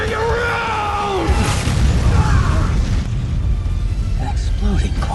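An explosive blast from an anime fight scene booms loudly amid dense rumbling and crashing, with shouted voices mixed through the din.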